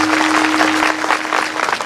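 A seated audience claps together at a comedy kirtan, a dense, even burst of applause lasting about two seconds, with a steady hum underneath and no voices.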